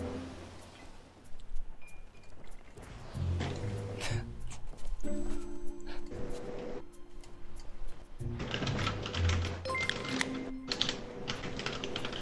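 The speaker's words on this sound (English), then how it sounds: "He's typing something and it's probably gonna be bad." Keyboard keys clatter in bursts of rapid typing during a Sea of Thieves match, with pauses between flurries and game sounds and faint hums underneath.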